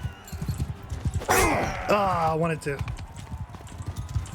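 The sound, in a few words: horses galloping in Mount and Blade 2: Bannerlord video game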